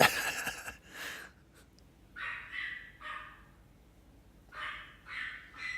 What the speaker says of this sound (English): did the dog start barking when I said you're the dog?